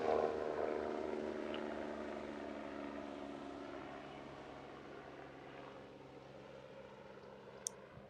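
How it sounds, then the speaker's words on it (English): A helicopter passes overhead, its broad rotor and engine rumble loud at first and slowly fading as it moves away, heard alone without talk. "I'm gonna wait for that helicopter to pass."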